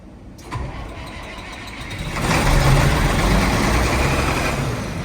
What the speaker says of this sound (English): Right, cold start, 4494.